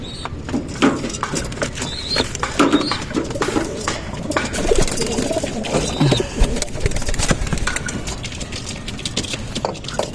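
Pigeons cooing in a loft, several soft throaty coos repeating close by over a busy background of rustling and faint mechanical hum.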